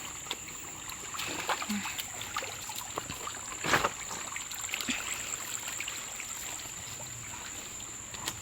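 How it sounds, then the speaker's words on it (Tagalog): Creek water trickles and flows steadily nearby along a rural stream bank while people forage for ferns, with occasional small splashes and brush rustling over a constant high insect whine. "hanggang dito na lang po yung tubig ng sapa"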